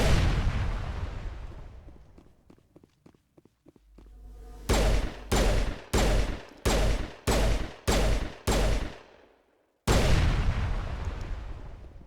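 Pistol fire in the Mass Effect video game, a sequence of about eight sharp, loud shots fired one at a time at an even semi-automatic pace, with a single louder blast after a brief gap.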